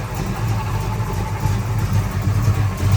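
A 1969 Dodge Coronet 500 with a 383 V8 and four-speed sits idling, its steady low rumble continuous and close with a slight uneven lope, no talking over it.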